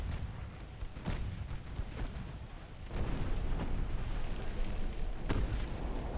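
Heavy shell impacts strike a warship during a naval battle in Ultimate Admiral: Dreadnoughts, with deep booming blasts and rumbling over a continuous low roar of battle noise.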